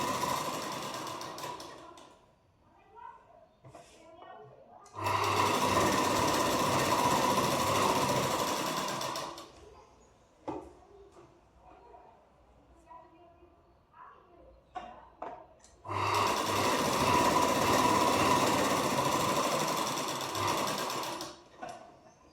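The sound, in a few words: sewing machine stitching blouse lining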